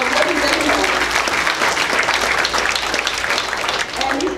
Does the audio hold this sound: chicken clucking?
no